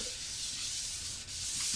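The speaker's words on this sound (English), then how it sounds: "I have a maroon Scotch-Brite that I use to kind of blend my sanding marks in" Steady abrasive rubbing of a maroon Scotch-Brite pad scrubbing across a metal fireplace surface, a continuous harsh scratchy sound, close and alone without talk.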